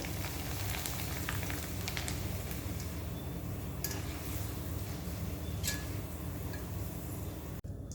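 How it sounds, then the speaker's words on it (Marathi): Sliced almonds fry in hot oil for a homemade fasting chivda snack, a faint, steady sizzle with scattered small crackles and pops running continuously, close and quiet. "आता थोडेसे कापलेले बदामाचे काप आता हे गुलाबी रंगावर तळून घ्यायचे आहेत"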